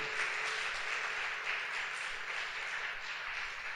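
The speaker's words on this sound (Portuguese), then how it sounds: "Quem crê, aplaude o Senhor." A church congregation applauds during a sermon, a soft, steady wash of clapping heard from some distance, even in level with no voices standing out.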